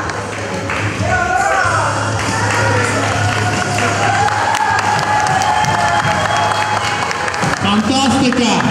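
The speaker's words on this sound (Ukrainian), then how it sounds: "Я хотів би вас попросити поаплодувати нашим тренерам." An audience at a regional cup sports event claps and cheers for the coaches, producing dense sustained applause with shouts from the crowd that continues loud for the whole stretch.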